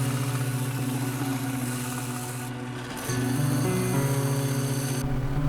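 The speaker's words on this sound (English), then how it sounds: "let's get this thing to the sander, sand it down so we get some nice clean edges" A power sander runs steadily while sanding the edges of a piece of burl wood, a continuous motor whine with a grinding, rasping texture that dips briefly in pitch before rising again.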